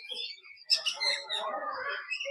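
Birds calling at a bird park in Yelagiri, a mix of chirps and tweets overlapping in a busy, moderately loud chorus with a bit of background activity.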